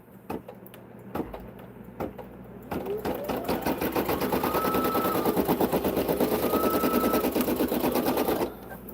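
An embroidery machine stitches at high speed, a few separate mechanical clunks first, then a loud, close, steady rattling needle rhythm with a rising motor whine that stops abruptly near the end.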